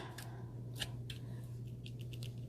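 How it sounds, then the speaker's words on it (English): Small first aid kit scissors handled at close range, a few light metallic clicks and snips over a steady low hum, with no talking. "pull out the scissors."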